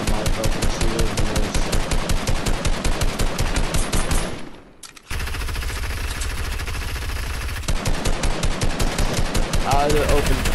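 Rapid machine gun fire in a video game: loud, steady automatic bursts run for several seconds, break briefly, then resume, with a voice talking over the shooting.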